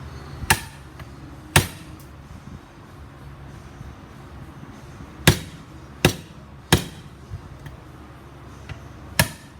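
A hammer strikes a screw during the teardown of a Honda CR125 motorcycle, landing about seven sharp, ringing blows at irregular intervals over quiet workshop background, with no talk.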